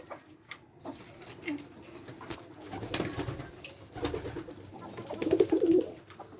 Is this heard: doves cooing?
yes